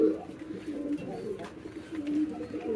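Domestic pigeons in a coop give soft, low, repeated coos close by, a gentle throaty rumble with no talking over it.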